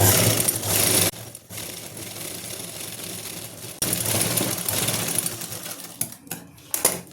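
A sewing machine runs in steady bursts while stitching buckram onto a salwar, with a brief pause near the start and a longer stop at the end, broken by a few clicks and handling sounds.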